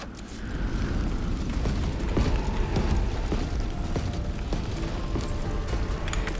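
Explosive rounds firing and detonating in the Resident Evil 3 video game: a steady, dense rumble of booms and blasts, with sharp repeated bursts scattered through it, heard alone without talk.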